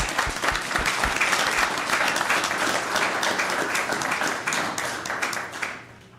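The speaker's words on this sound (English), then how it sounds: "let's give them a round of applause" Dense, sustained applause from an audience at a city council meeting, clapping for caregivers, steady and loud before tapering off at the end.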